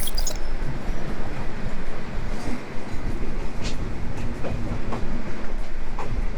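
The Benapole Express rumbles into Benapole rail station in the rain. A continuous loud rolling roar carries occasional wheel clacks and faint squeals, and no one speaks.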